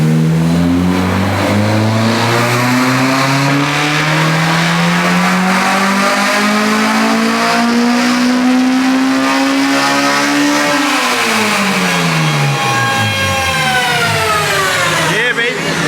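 Honda Civic EG hatchback with a K20A2 engine and individual throttle bodies revving on a dyno, a loud close wail climbing steadily in pitch for about ten seconds, then dropping off sharply and blipping again; voices talk over it.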